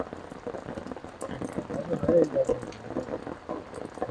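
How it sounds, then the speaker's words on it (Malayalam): Heavy rain pours steadily during a rainy fishing outing, a dense patter on surfaces that swells and eases, with a voice talking faintly underneath at times. "നല്ല നല്ല മഴയാ"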